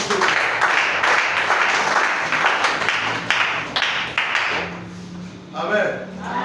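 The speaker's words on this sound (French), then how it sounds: "Acclame encore pour lui." A church congregation applauds and cheers together for Jesus during an evangelistic service, a dense steady wash of clapping that fades toward the end, where a voice speaks briefly over it.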